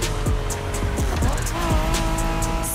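A 1990s Honda NSX racing in the video game The Crew Motorfest, its engine revving up and down in quick sweeps with shifts, loud and close, with faint tire noise.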